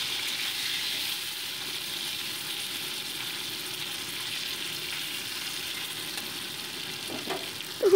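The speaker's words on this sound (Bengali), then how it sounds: "তো দেখো মাছগুলোকে উল্টে পাল্টে কিন্তু আমি ভেজে নিচ্ছি।" Snakehead fish frying in hot mustard oil in a wok while being turned, giving a steady, moderate sizzle throughout with a brief louder clatter at the very end.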